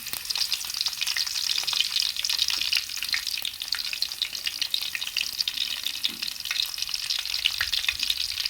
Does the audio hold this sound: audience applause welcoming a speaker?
no